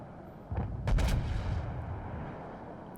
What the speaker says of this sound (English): Continuing to shoot at the Texas while our destroyer engages theirs.